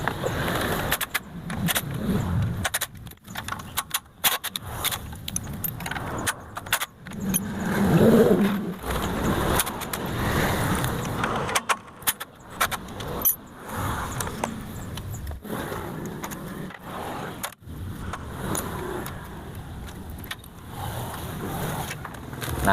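A small Honda GX gasoline engine converted to run on LPG runs steadily throughout, a continuous low rumble with a few clanks and rattles close by.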